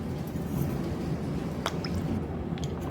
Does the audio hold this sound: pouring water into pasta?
yes